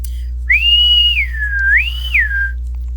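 A clear, close whistled tune: a sustained note sliding down, then rising and falling again in a smooth, wavering melody over a low steady hum.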